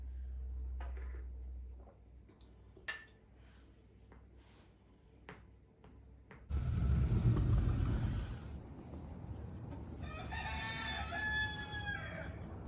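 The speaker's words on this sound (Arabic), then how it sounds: "تسمعوا صوت الديك." A rooster crows in the distance over a quiet, noisy background, following a rumbling stretch.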